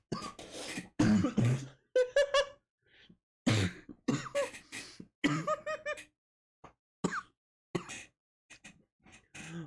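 A person coughs in a string of harsh, close bursts, mixed with throat clearing, gasps and a little giggling laughter, separated by short silent gaps.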